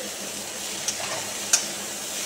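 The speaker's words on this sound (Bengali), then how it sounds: "দিয়ে বেশ ভালো করে ভুট্টাটা মশলার সাথে কষিয়ে নেব।" Corn kernels stir-fry with ground spices in a pan, a soft, steady sizzle broken by two quick scrapes of a spoon against the metal.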